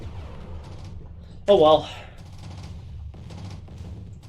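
A Vulcan cannon in C&C Tiberian Sun fires a short rapid burst, loud and sharp for about a quarter second, while someone talks quietly before and after.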